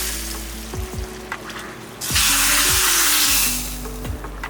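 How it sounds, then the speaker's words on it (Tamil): Fried dried black nightshade berries go into a boiling tamarind gravy, bringing a loud burst of sizzling and bubbling midway, with spoon clinks against the pot on both sides of it. "இப்போது இந்த வறுத்த மணத்தக்காளி வத்தலை இதில் ஊற்றிடுங்க."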